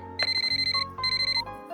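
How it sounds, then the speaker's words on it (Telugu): A telephone rings indoors with rapid, trilling electronic bursts in two clear rings separated by a brief pause, loud and close, with no voices over it. "ఫోన్ ఎత్తడానికి ఇంతసేపు ఏంటి?"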